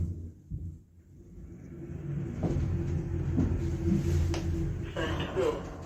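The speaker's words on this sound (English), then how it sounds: "The lift is a Techno MRL serving the ground and first floor." The doors of a Techno MRL machine-room-less lift serving the ground and first floor of a Next store in Handforth, Wilmslow, close with a clunk, then a low mechanical rumble builds as the car starts moving and continues steadily.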